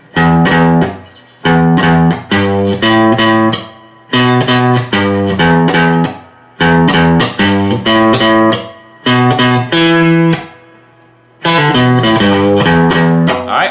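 Distorted electric guitar plays a chunky rock riff in repeated rhythmic phrases, separated by short pauses, loud and close.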